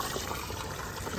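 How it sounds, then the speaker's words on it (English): Water flows steadily through an aquaponics saddle valve, a continuous rushing, gurgling wash that stays loud and even throughout, with no talking. "You have a lot of water flow. And if I open up the saddle valve"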